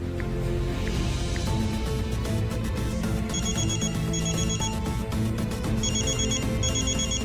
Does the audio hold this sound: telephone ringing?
yes